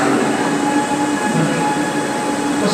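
A train rushes past close by, a loud continuous roar with a hint of wheel squeal throughout, no voices.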